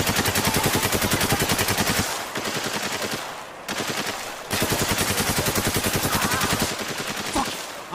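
Sustained automatic gunfire in the video game Spec Ops: The Line, loud rapid bursts with brief pauses between volleys and a final single shot near the end.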